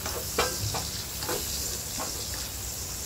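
Ginger and onion sautéing in a pan before mussels are added, a constant close sizzling hiss with a few soft stirring scrapes, with no one speaking.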